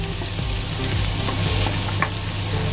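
Chopped garlic frying in hot canola oil for a sweet and sour tilapia escabeche sauce gives a steady, close, loud sizzle with a few light stirring touches and no voices.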